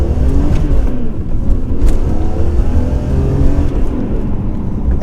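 A BMW M3 E46 is driven hard, its engine revving loudly with a raspy exhaust note, heard close and continuous from inside the car with no talking.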